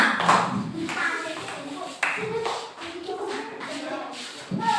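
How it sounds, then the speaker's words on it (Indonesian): Children in a primary school classroom clap together in a steady, sustained burst of applause, close and fairly loud, with a short break partway through, and a few voices are heard faintly underneath. "Kasih tepuk tangan dulu untuk kelompok Alif."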